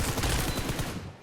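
A short, loud burst of rapid gunfire-like impacts from a headshot helmet-hit effect in PUBG Mobile, dense and punchy, cutting off abruptly after about a second.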